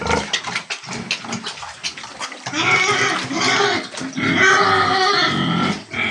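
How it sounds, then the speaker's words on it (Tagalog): Pigs on a farm after feeding and bathing grunt and squeal up close, loud and continuous, with splashing and running water mixed in. "Tapos na magpaligo ng baboy."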